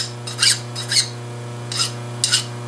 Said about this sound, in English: A few more edges to deburr now